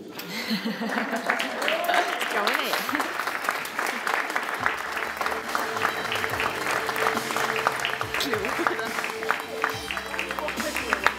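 Lively crowd applause at a horse show award ceremony during a cantered lap of honour, continuous clapping with scattered cheers and voices mixed in throughout.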